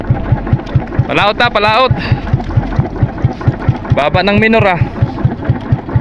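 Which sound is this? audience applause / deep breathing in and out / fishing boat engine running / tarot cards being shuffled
fishing boat engine running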